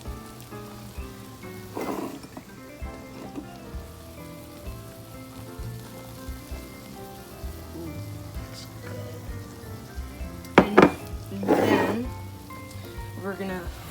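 A cheese omelet fries in a pan with a soft, continuous sizzle beneath quiet background music, broken by a few louder, brief crackling bursts near the end.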